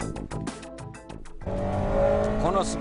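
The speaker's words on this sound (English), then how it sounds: "It's amazing how well this car runs on a slippery track" A Honda Integra DC2 Type R runs on a slippery track, its engine revving and climbing in pitch close by, with a brief tire squeal near the end and a voice talking over the start.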